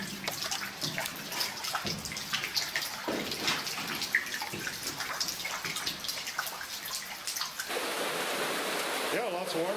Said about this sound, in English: Yeah, lots of water running out there for sure.